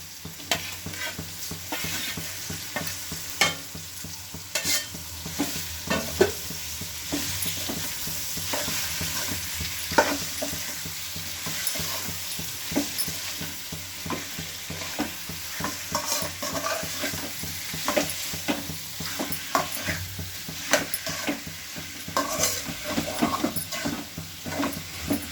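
Chicken mixed with turmeric sizzles and fries in a hot pan for chicken curry, with steady crackling and repeated scraping stirs throughout, close and moderately loud, no voices.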